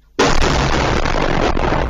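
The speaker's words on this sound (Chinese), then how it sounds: "伴随轰炸声，镜头上下晃动" Heavy bombing blast at night in southern Ukraine near Nikopol, a sudden loud roar that bursts in and then sustains as a dense rumbling wash for nearly two seconds, close and overpowering.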